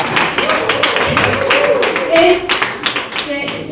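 An audience applauds, with a quick patter of hand claps running under someone speaking French. The clapping is moderately loud, close and brief.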